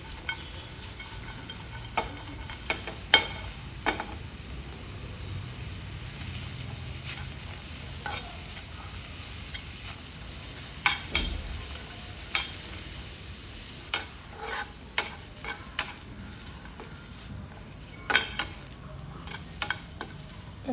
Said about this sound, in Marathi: आता आपण पॅनमध्ये घेणार आहोत उभा चिरलेला कांदा. तेल नाही टाकायचं आपल्याला, हा तसाच फ्राय करायचा आहे गोल्डन ब्राऊन